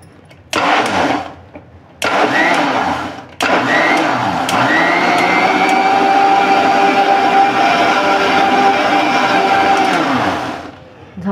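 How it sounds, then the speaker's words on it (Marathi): A kitchen mixer blender whirs steadily as it blends banana milkshake with milk, loud and close, starting in two short pulses before running continuously for several seconds and then winding down. "आणि आता आपण मिक्सर पुन्हा चालू करून घेऊ."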